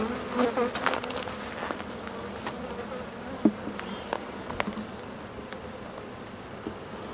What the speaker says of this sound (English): We got a lot of bees here